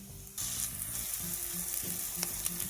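Spring onions sizzle in a pan with margarine over rice, a steady close frying hiss starting abruptly after a brief quiet moment and continuing with light stirring clatter.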